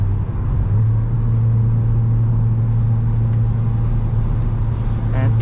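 A 2022 Hyundai i20 N, 204 hp with a loud exhaust, accelerating in N mode, heard from inside as a steady low engine drone and road rumble with faint talk.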